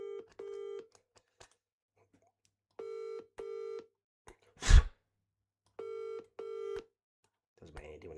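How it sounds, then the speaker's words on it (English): A phone dials out with bursts of keypad tones and ringing-tone pulses in short repeated pairs, broken by silent gaps and one loud thump, with faint noise at the end. "I'll ring this guy again quickly."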